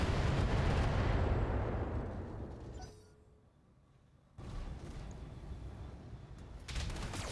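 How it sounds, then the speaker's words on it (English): Heavy mech cannon fire pounds a Wolverine tank destroyer in a video game, a loud roaring barrage that fades into a brief lull before the booming resumes. "we're gonna shoot at this Wolverine instead"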